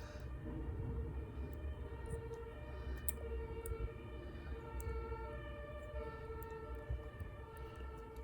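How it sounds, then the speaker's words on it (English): An ambulance siren wails continuously in the distance, its rising and falling tone carrying over low city rumble. "we have the ambulances and stuff, that normal city noise"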